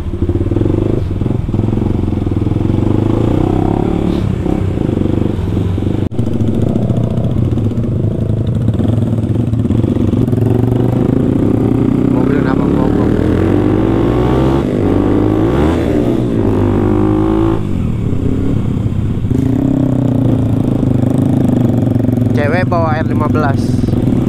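Kawasaki KLX 250 supermoto motorcycle engine running loud and steady for the whole stretch, with rising and falling revs as it rides through traffic, plus rattly clatter and wind.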